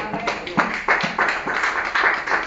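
A church congregation at a revival service claps in acclaim, a steady rhythmic run of roughly ten firm handclaps with a roomy, slightly murmuring backdrop.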